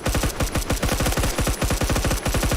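Rapid automatic gunfire from the Roblox game Phantom Forces, a loud, sustained burst of closely spaced shots firing in a fast, even rhythm with no talk over it.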